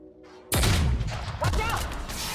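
A grenade launcher fires in The Outer Worlds, two loud, heavy booming blasts about a second apart with a lingering rumble, set against busy combat noise.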